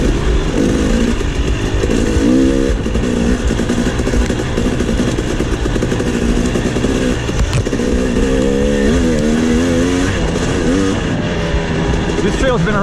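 Two-stroke KTM 300 XC dirt bike revving steadily on a swamp trail, the engine pitch rising and falling continuously throughout with strong, loud harmonics, and a rider's voice occasionally talking over it.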